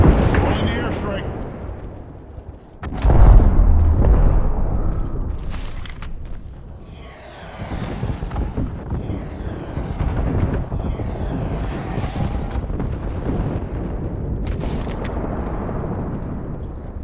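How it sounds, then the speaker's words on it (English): Airstrike explosions go off in the Apex Legends game Gibraltar, with heavy booms and rumbling blasts rolling in one after another and loud crackling debris between them. "Calling the airstrike."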